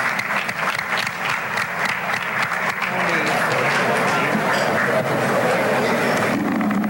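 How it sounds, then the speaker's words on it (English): Sustained audience applause fills a ceremony hall, loud and continuous for several seconds, with a crowd murmur rising beneath the clapping toward the end. "let's give ourselves a round of applause"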